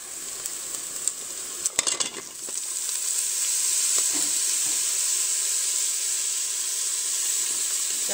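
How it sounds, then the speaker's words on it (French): Beef meatballs drop into a hot Cookeo and start sizzling, a few knocks and clatters at first giving way to a steady, close frying hiss that holds to the end. "Je vais y mettre mes boulettes."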